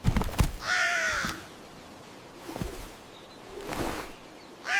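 A crow caws in a fairytale about a crow carrying a girl off to a remote part of the forest, a couple of harsh calls near the start, then quieter rustling and swishing sounds follow.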